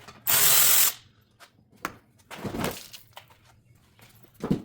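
Ratchet loosening the last screw on a Mustang ZL1 front bumper, a loud burst of rapid clicking at the start followed by scattered quieter mechanical taps and handling noises, close up.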